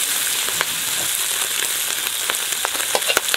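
Diced pork belly fries in its own rendered fat, a loud, dense, continuous sizzle with scattered crackles and pops from close up.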